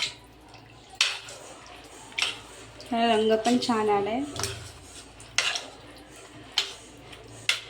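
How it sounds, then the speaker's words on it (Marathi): Pav bhaji vegetables mashed with a masher in a metal pan, with repeated sharp clanks and knocks of metal on metal at irregular intervals, close and fairly loud, while someone talks briefly in the middle. "आता आपण त्याला मॅशरने ना बारीक करूया"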